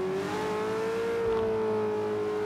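A car engine in the racing game Forza Horizon 3 holds a steady, loud droning hum throughout, with no voices over it.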